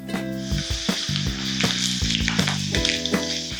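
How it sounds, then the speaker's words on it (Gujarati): Masoor lentils sizzling loudly in hot oil over high flame for dal moth, a close, continuous crackle broken by repeated scraping stirs, with a faint tonal hum underneath. "મસૂરને ફ્રાય કરો તો તેને હાઈ ફ્લેમ પર જ ફ્રાય કરવાના છે"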